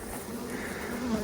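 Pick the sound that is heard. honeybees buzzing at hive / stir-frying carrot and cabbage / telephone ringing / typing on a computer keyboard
honeybees buzzing at hive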